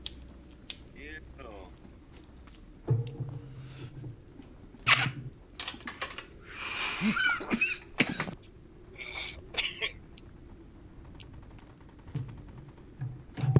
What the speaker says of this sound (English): coughing and hitting bowls and shit